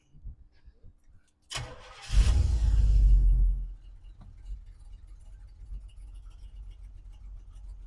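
A Chevrolet Monte Carlo 4x4 with an RV cam cranks and fires, roars loudly for a couple of seconds, then settles into a steady, low, smooth idle that runs on close by with no talking.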